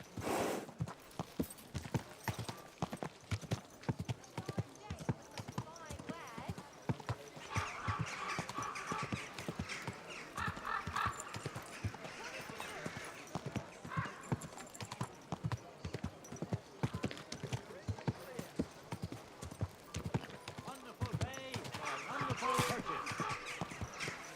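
Horse hooves clip-clop in a steady rhythm throughout a medieval setting in the video game Kingdom Come: Deliverance 2, mid-distance and continuous, with voices talking over parts of it.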